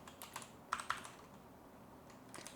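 Quiet keystrokes on a computer keyboard while C++ code is typed, a few scattered clicks in short irregular bursts, close and soft.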